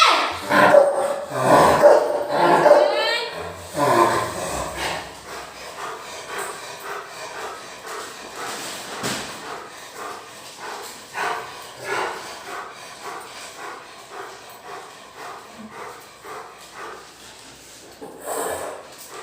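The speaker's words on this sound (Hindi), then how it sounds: "वो भौंक रहा है" A pet dog barks and snorts up close in a home, with a burst of loud barking at the start followed by quieter scuffling, thuds and knocks, and another sharp sound at the end.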